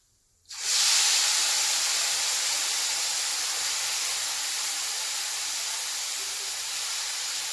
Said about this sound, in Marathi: डायरेक्ट मसाल्यामध्येच फोडणी देते